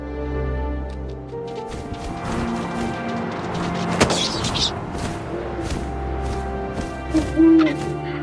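A single low owl hoot near the end, brief and fairly clear, over a wind-like game ambience with scattered thumps and rustles, in the game What Remains of Edith Finch.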